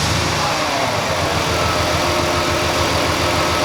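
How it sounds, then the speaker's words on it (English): Car engine running at a steady idle during misfire diagnosis, a loud continuous mechanical drone with a regular low pulsing throb and no speech. "And Tammy, can you start the engine, please?"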